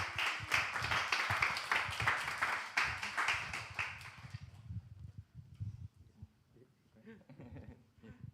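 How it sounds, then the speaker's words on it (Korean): Congregation in a church service welcoming a missionary with loud, dense clapping for about four seconds, which then fades into scattered murmuring and a few faint taps. "우리 함께 나오실 때 큰 박수로 환영하도록 하겠습니다."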